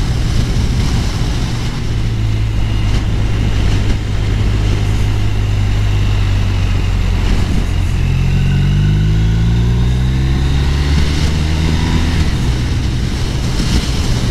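A 2019 BMW R1250 RS sport-touring motorcycle being ridden, its engine droning steadily and loud throughout, rising in pitch as it accelerates through the gears toward the end, with wind rush and no talk.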